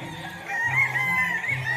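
Tulis white fighting cocks crowing on a mountain farm, overlapping drawn-out calls from more than one rooster at close to middle distance, with no talk.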